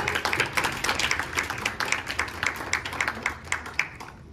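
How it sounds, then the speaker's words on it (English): A small group of people claps for a forum panel, with steady overlapping hand claps close by and no talk over it. "A round of applause to our wonderful panel"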